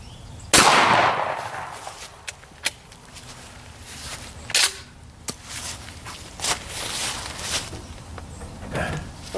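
A gunshot firing a hot glue slug at a plywood target outdoors rings out sharply once near the start, followed by scattered clanks and handling knocks, with occasional smaller impacts.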